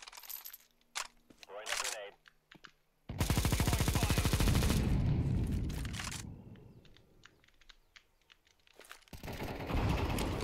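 Rapid sustained bursts of Negev machine gun fire in Counter-Strike 2 on the Inferno map, loud and dense, with shorter pops and clicks between bursts and a player's voice briefly heard.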